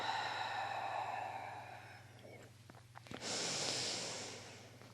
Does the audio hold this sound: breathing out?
yes